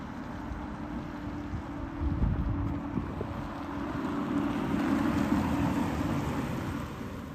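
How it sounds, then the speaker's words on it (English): Steady interior road and engine rumble inside a 2025 Citroen C4 on the move, a low continuous drone that swells slightly midway, with no one speaking. "Now let's get it out for a drive."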